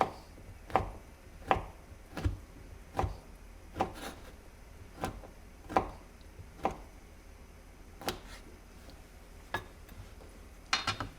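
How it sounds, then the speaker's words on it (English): A sharp knife cuts tempeh into bite-sized chunks, about a dozen crisp, quiet knocks at a fairly even, unhurried pace, close up, with no talking. "Use a sharp knife, and then once more in small little bite-sized chunks."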